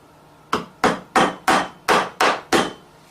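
A hammer strikes seven times in a steady rhythm, each blow sharp and loud, while a whitetail deer head is being mounted in taxidermy. The hits are close and have no talk over them.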